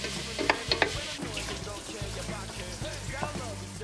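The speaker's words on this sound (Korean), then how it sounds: "양파 볶고 고기 볶고." Onion and meat fry in butter for kimchi stew, making a soft, continuous sizzle with intermittent stirring clinks and scrapes in a home kitchen.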